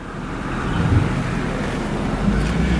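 A 1989 Mercedes-Benz 560 SL R107 heard from inside while driving: a steady low engine and road rumble with a wind hiss, continuous and even in level, with no voices.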